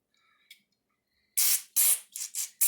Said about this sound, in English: And I hit that, and yeah, I got some good spray.